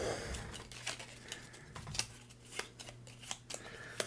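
Quick papery riffling bursts of shuffled playing cards, several short clicks and flutters in an irregular rhythm, close and moderately quiet with no voices.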